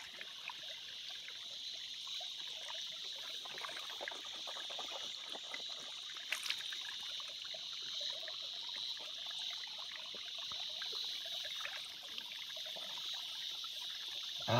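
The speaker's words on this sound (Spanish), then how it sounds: "enjuagándote la boca, haciendo que coja oxígeno el agua y te lo tragas" Someone rinsing their mouth with water: a steady, close, soft liquid swishing and trickling continues evenly throughout, with no talking.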